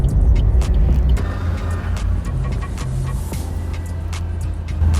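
A Suzuki All New Ertiga drives along a toll road, and from inside the cabin comes a steady, loud drone of road and engine noise with faint ticks and thumps, without talking.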